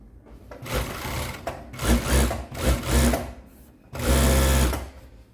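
A used Yamato VC2700 industrial three-needle sewing machine stitches at high speed during a test, running in several loud bursts with short pauses between them and no talking.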